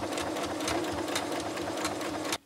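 Sewing machine stitching a fabric case for hand sanitizer gel, running as a fast, steady mechanical chatter of needle strokes heard close up, then stopping abruptly.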